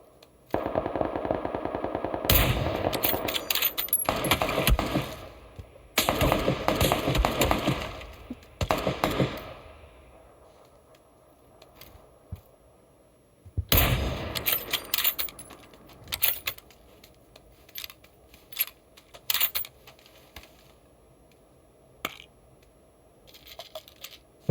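Rapid gunfire from a video game played while pedaling an exercise bike comes in loud crackling bursts, then tapers into scattered sharp pops and clinks over a quiet background, with no talking.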